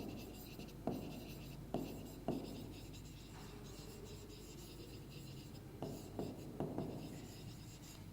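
Chalk or marker strokes on a board while a maths problem on the area of a rectangular field is worked out, a few short scratchy taps and scrapes at irregular intervals over a quiet room.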